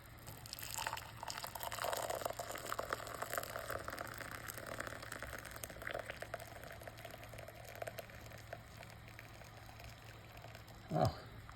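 Homemade sassafras tea pours through a small strainer into a glass, a soft trickling and splashing that starts strong and thins to light drips, ending with a brief clink.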